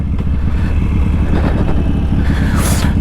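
Harley-Davidson Sportster 1200 motorcycle engine running loud and close, a steady throaty rumble with rising revs near the end.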